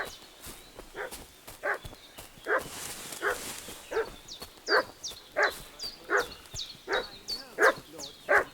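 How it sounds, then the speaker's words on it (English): A dog barks repeatedly in a medieval village scene from Kingdom Come: Deliverance II, a steady run of sharp barks about every half second, mid-distance and moderately loud with a faint ambient background. "What's that dog making such a fuss about?"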